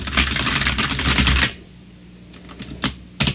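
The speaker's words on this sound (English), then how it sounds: "The keyboard that I have connected to this computer right now" A clacky mechanical computer keyboard typed on in a rapid, continuous burst of loud, close keystrokes, followed by a pause and a few isolated clicks.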